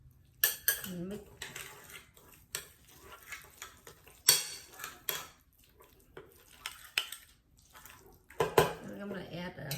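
A spoon mixes tuna salad with salt, garlic powder and black pepper in a bowl, giving irregular close scrapes and clinks against the bowl in short bursts separated by quiet pauses.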